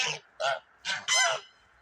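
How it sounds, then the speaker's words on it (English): Geese honk four times in quick succession, loud and nearby, each call a brassy, nasal blast with short gaps between. "Even the geese agree with me."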